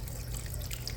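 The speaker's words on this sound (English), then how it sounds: "you just have to just rinse it out" Running water from a tap pours steadily over a Raycop Lite vacuum part being rinsed, a continuous close, low splashing rush with no talk.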